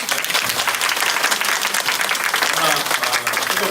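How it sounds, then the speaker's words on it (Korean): A church congregation at an Endtime Conference worship service applauds a visiting choir, producing loud, dense, continuous clapping that fills the hall for several seconds. "우리 박수 한번."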